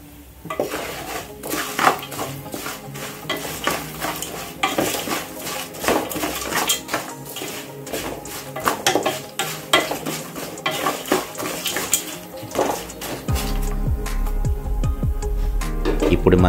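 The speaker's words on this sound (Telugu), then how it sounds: "కమ్మని సువాసన వచ్చే వరకు తాలింపుని బాగా వేగించండి" Tempering of spices with asafoetida frying in a pan while being stirred for a Telugu gongura rice dish, with repeated metal scraping and clinks over a steady sizzle that grows louder near the end, a voice talking over it.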